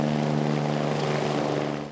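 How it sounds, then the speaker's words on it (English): The Westpac rescue helicopter flies low over Launceston's First Basin during a search, its loud, steady rotor and engine drone holding close overhead before beginning to fade at the end. "The Westpac rescue helicopter flew low over Launceston's first basin, scanning for a lost swimmer"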